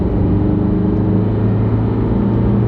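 An Isuzu D-Max AT35 Arctic Trucks pickup pulls away hard from a standing launch, its engine a steady, loud, close rumble that holds evenly throughout with no break.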